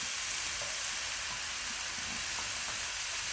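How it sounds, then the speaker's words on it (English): Mince fries in a pan with a dense, continuous sizzle and hiss close by, even in loudness throughout, with faint stirring knocks and no voices. "Mince you have to cook a little bit longer"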